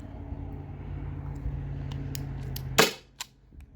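A Byrna SD launcher powered by an 8-gram CO2 cartridge fires a single sharp crack over a low steady hum, followed by a short rattle and a quieter click.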